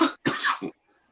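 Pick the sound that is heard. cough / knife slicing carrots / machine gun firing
cough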